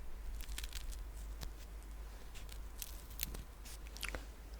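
Crispy marshmallow being bitten and chewed close to the mic, with sharp crunchy bites and softer chewing clicks spread through a quiet, steady background.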